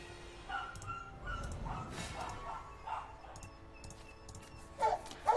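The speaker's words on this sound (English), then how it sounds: "Fucking dog." Dog barking and yipping in short scattered bursts, moderately close, with whimpering sounds between barks and a couple of louder barks at the end.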